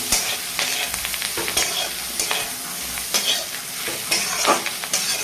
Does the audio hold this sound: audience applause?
no